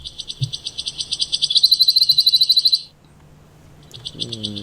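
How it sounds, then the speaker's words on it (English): A wood warbler sings an accelerating series of high, repeated notes that speed into a shivering trill, then pauses before starting again; nearby and clear. "it is a wood warbler"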